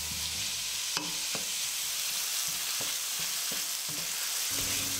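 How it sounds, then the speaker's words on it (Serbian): Food sizzles in oil in a frying pan, a steady hiss broken by several sharp clicks and scrapes as it is stirred at an uneven pace, close up and without speech. "Sve sam to stavila u tiganj i sada ću to da ispržim na ulju."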